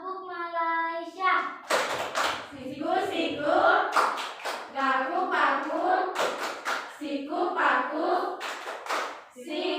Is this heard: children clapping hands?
yes